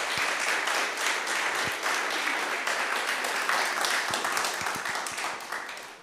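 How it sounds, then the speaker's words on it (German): Sustained applause from a youth church service congregation, dense clapping filling the whole stretch at a steady level before tapering slightly at the end. "Ich denke, das hat einen kleinen Applaus verdient."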